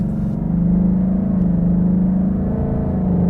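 A deep, steady exhaust rumble at idle from a 2018-2023 Mustang GT with a Corsa 3" Xtreme cat-back exhaust in normal mode, fairly loud and close, holding an even low tone throughout with no voices.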